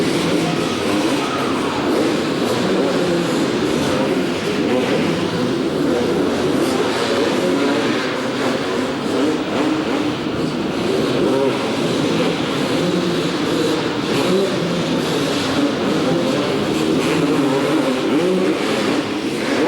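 Several 250 Pro class motocross bikes, a Suzuki in the lead, race at an indoor track in Marion, Ohio, in 1993, their engines a steady dense roar with rising and falling revs from a distance throughout.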